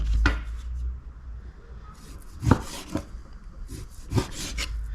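Several dull, separate knife cuts into raw meat on a board, with a scraping rub between strokes, fairly close and moderately loud.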